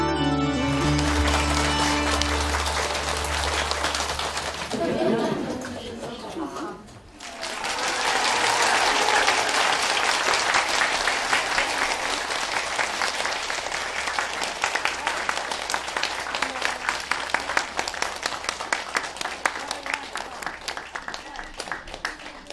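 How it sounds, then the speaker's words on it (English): A large audience at a Buddhist teaching claps loudly and continuously, a thick rattle of hands that dips briefly and then swells again, with a steady hum underneath. "You clap because I wear some nice clothes?"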